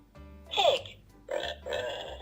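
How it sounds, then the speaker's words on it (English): Farm pig grunting, a few short close snorting grunts in separate bursts, alone without speech. "Pig."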